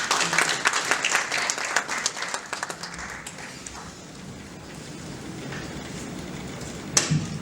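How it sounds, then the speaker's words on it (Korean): Audience applause at a policy forum as a guest speaker is invited up, dense clapping in the first few seconds that thins into a quieter room with a lone sharp clap near the end. "박수 부탁드리겠습니다."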